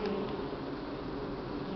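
Buckfast honey bees buzz steadily at the hive, a dense, continuous close-up hum with no breaks, filling the whole stretch evenly without any voices.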